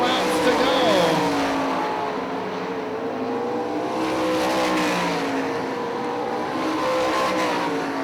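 Sprint cars race on the dirt track at Hartford Speedway Park in Michigan. Several engines roar and rise and fall in pitch as the cars rev through the turns and sweep past, with a continuous, loud, snarling sound.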